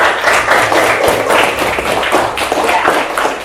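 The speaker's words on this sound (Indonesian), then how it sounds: "Oke, tepuk tangan semuanya." Fifth-grade students in a classroom clapping together, a busy patter of many small hands with some voices mixed in, steady and close for several seconds.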